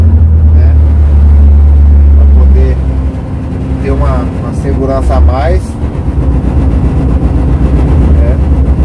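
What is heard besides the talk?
engine brake of Volvo FH460 truck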